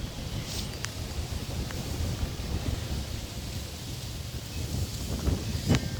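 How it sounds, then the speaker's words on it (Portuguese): Wind blows steadily outdoors on a fresh autumn day in a city neighbourhood, a continuous broadband rush with gusty swells and faint rustling, no voices. "tá ventando"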